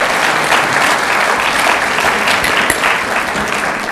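Loud, dense audience applause for a Florida governor at a panel event, sustained evenly throughout with no speech over it.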